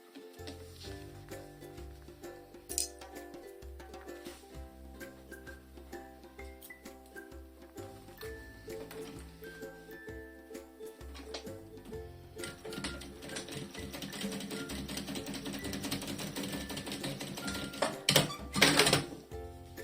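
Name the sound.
sewing machine stitching a pocket edge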